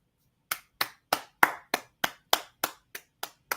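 A single person claps by hand, about ten crisp, evenly spaced claps in a steady rhythm after a short silence, close and clean with nothing else underneath.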